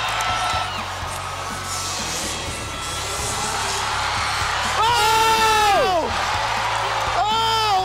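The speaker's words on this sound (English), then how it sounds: "everybody in this house, is now standing up and cheering on the" A stadium crowd at an extreme sports event stands and cheers for Travis Pastrana, a broad roar of whoops and yells under an excited announcer's commentary that swells near the end.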